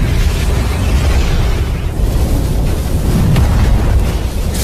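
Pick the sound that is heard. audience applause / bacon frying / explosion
explosion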